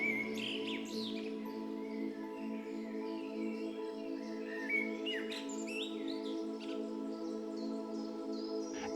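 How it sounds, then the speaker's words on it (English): Bird chirps and calls in the Amazon rainforest, repeated short tweets scattered across the clip over a steady droning hum, moderately clear rather than far off. "The distant call of birds,"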